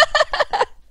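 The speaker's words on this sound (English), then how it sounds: "I see a chicken attacking me!" Minecraft chicken clucks in four quick, bright bursts close together, then a faint short fifth note after a brief pause.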